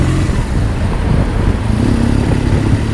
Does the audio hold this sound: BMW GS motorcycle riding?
yes